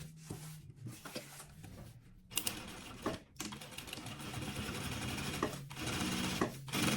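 Sewing machine stitching fabric lining onto a sublimated toiletry bag, running in bursts of rapid, steady mechanical clatter with short pauses between passes, close and without speech.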